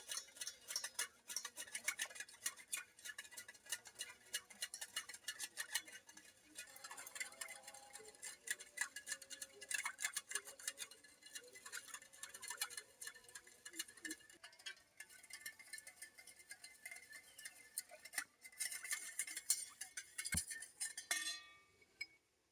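A spoon clinks and taps quickly and continuously against a glass while a cold summer sherbet is stirred with sugar and chocolate. The sound is faint and runs throughout, with no voices.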